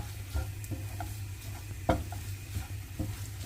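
Egg fries with masala in a pan for egg kothu bread, heard as a soft, quiet sizzle with occasional light stirring scrapes and taps against the pan, fairly close and without talking.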